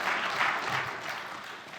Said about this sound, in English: you can clap. Do it.